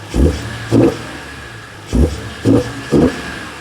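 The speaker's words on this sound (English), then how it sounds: "The CSL cars received a carbon fiber airbox from factory instead of the plastic junk that's in my" A BMW E46 M3 engine with a carbon fiber airbox intake revs sharply five times in short blips, with a deep, throaty intake roar on each burst, loud and close.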